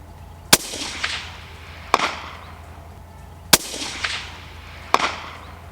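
Four sharp precision rifle shots at a steel target plate in a PRS shooting setting, each crack followed a moment later by a fainter ringing ping of the hit plate, spaced about one and a half seconds apart.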